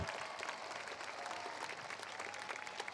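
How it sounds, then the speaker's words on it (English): Graduation audience applauds the Dubuque Senior Drum Line at a high school ceremony, a steady wash of many hands clapping at moderate distance, continuous and even throughout with no voices standing out. "Let's give a round of applause for the Dubuque Senior Drum Line under the direction of Mr. Jonathan Gard."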